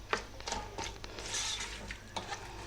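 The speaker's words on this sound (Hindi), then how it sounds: "मैं इसे पहले तेज़ आंच पे ब्राउन करूँगी, क्योंकि प्याज को कभी स्लो आंच पे ब्राउन नहीं करते" Onions brown in oil over high heat for chicken korma, with quick scraping and stirring clinks of a utensil against the pot over a soft sizzle, close and repeated.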